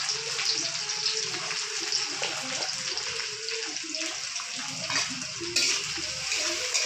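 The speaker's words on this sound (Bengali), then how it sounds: "পেঁয়াজটা একটু লাল লাল করে ভেজে নিই।" Chopped onions sizzling in hot oil over cumin seeds, a steady broadband hiss that runs throughout at close range, with faint scrapes from stirring and no voice over it.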